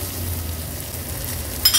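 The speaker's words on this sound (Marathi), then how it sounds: "फोडणी थोडीशी आपल्याला अशीच परतून घ्यायची आहे तुपावर" Red chilli, curry leaves and crushed garlic sauté in ghee with a constant close sizzle and crackle, followed by a short scrape of stirring at the end.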